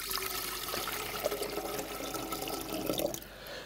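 Water pours steadily into the metal cylinder of a Royal Catering RCBM-3/4R soup warmer, a continuous close splashing rush with a few small sloshes, no voices.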